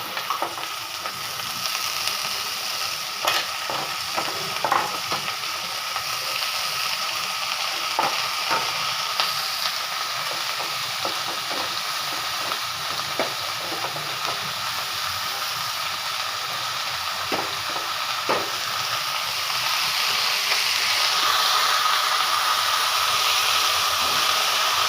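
Chopped leafy greens fry with already browned onions, giving a continuous hissing sizzle broken by intermittent scrapes and taps of stirring. The hiss swells louder and more steamy toward the end.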